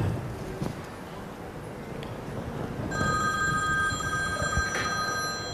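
A mobile phone ringtone rings out at a Ramadan religious lecture. A repeating electronic tone starts partway through and carries on steadily and fairly loud over room noise.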